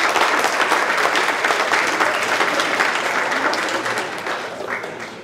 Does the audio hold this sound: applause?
yes